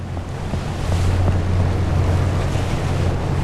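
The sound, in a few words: rolling ocean waves against a ship, from the video game Seafarer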